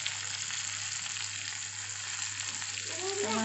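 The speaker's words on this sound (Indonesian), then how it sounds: "Oke, selanjutnya kita masukin tomat." Salted mackerel stir-fry sizzles steadily in a pan, a soft continuous hiss that swells slightly near the end as tomatoes go in, with no voices.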